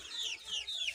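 Chickens cluck in a brief, faint burst of short, high calls, with no one talking.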